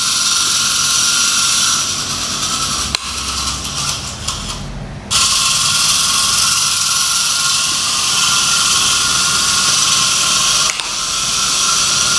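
A small homemade tractor runs with a loud, steady mechanical whir and buzzing drone, briefly dropping in pitch and level for a couple of seconds before resuming at full, constant intensity, with a sharp click near the end and no talk.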